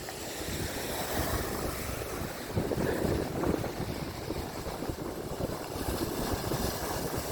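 Waves washing onto the Lake Michigan shore in a steady surging rush, with wind buffeting the microphone and a louder swell partway through.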